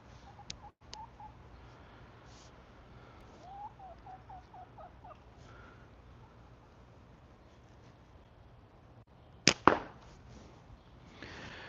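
A chicken's short calls come out faint and distant over outdoor background noise at a shooting range, followed near the end by a couple of sharp, loud bangs.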